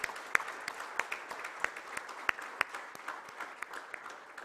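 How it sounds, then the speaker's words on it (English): Sparse clapping from a small group, uneven individual claps popping irregularly, fairly quiet and close. "A huge round of applause on the launch."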